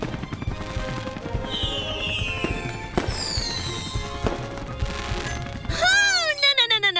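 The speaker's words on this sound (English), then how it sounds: "Never get too close to fireworks!" Fireworks explode in a children's educational show: high whistling streaks rise and fall, broken by a few sharp bursts, with a rapid run of pops at the end.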